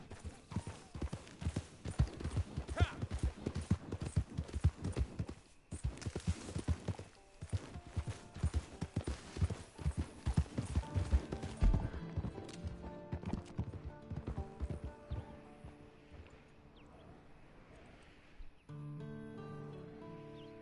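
Horse hooves clip-clop steadily in Red Dead Redemption 2, a fast rhythmic run of close hoofbeats that slows and thins out toward the end as a tonal musical layer rises underneath.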